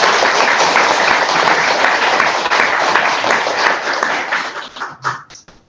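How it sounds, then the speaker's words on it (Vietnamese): Applause follows a singing performance at a Buddhist year-end gathering: dense, loud group clapping that carries strongly for several seconds, then thins into a few scattered claps before fading out. "xin chúng ta cùng dành một tràng pháo tay cho phần trình diễn của Phật tử Tiết Kiệm"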